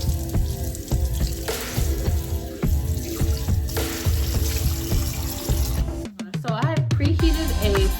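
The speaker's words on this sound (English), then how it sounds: "I'm going to rinse it really quickly." A rusty cast iron skillet is rinsed under a running tap, with a loud, steady gush of water and clattering against the metal, then an abrupt change near the end as the flow shifts.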